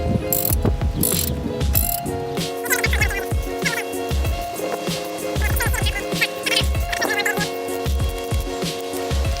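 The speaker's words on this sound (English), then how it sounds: "you should use a torque wrench actually for this" Ratcheting clicks from a wrench tightening frame slider bolts on a 2019 Kawasaki Ninja 400, with rapid bursts of metallic clicking and some clunks of tools nearby, loud and close with no talking.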